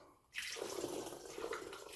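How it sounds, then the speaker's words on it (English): Homemade blackberry cordial is poured into a jug. After a brief quiet moment, a steady splashing trickle of liquid begins and runs on without a break, close up and with no talking. "All right, give this a little swirl and pour."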